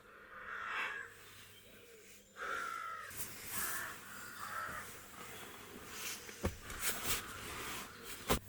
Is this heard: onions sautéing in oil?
no